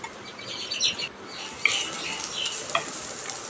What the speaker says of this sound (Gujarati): ડુંગળી જલ્દી સતળાઈ જશે